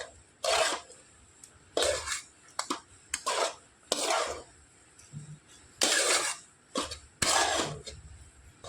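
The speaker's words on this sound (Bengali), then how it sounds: "সমস্ত কিছু খুব সুন্দর করে নাড়াচাড়া করে আমি মিশিয়ে নেব।" A raw potato mixture with chopped coriander and salt stirred in a bowl, with bursts of close, rough scraping and rubbing separated by short pauses and an occasional clink of the utensil.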